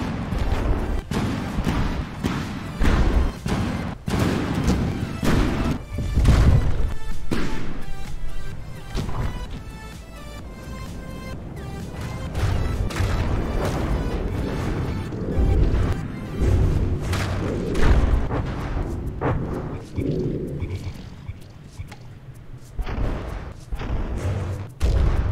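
Missiles blowing up during a warship battle in the video game Brawlership, with a steady run of loud, booming blasts and crashes that stacks up densely across the whole stretch, close and heavy throughout.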